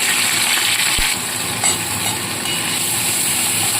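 Ginger frying in hot oil in a pan while cooking a Bengali aar fish curry, a loud dense sizzle close up with a sharp crackling pop near the start, steady throughout and no talking.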